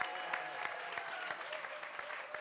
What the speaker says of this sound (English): Why don't you all clap for Congressman Jonathan Jackson?